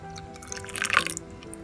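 Vegetable cooking water poured into a blended carrot and beetroot paste, a short, soft liquid splash and gurgle close by, swelling briefly then fading.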